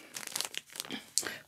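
A plastic bag crinkles and rustles as a hand reaches inside, several crisp crackling bursts in quick succession, close and fairly loud, with a sharper crunch near the end.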